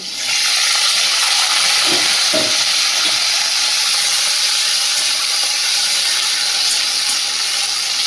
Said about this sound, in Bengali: এদিকে কড়াই তেল দিয়ে দিয়েছি, বরবটিটা ভেজে নেব।